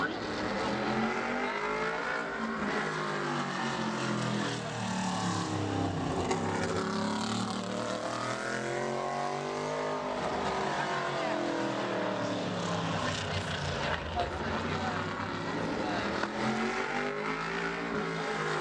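A modified race car engine roars steadily around Bowman Gray Stadium during qualifying, pitch rising and falling as it accelerates and passes, loud and continuous, with a commentator's voice faintly underneath.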